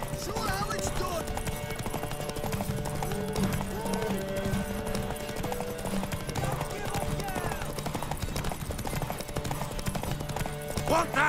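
Horse hooves clip-clop steadily in The Witcher 3: Wild Hunt, a fantasy role-playing game, mixed under game music and spoken character dialogue throughout.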